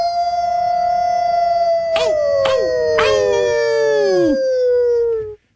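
A loud, sustained howl sound effect rings out as a long sliding wail, punctuated by several sharp swooping accents near the end before cutting off abruptly.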